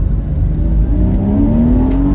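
A yellow Porsche engine revs up close with the intake behind the left quarter panel, a loud rising growl climbing steadily in pitch over about two seconds.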